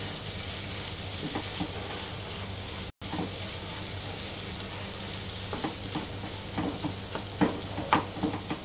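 Tawa gosht of dried shredded mutton frying in a pan: a steady sizzle runs throughout, joined in the last few seconds by close scraping and clinking as it is stirred, with no talking.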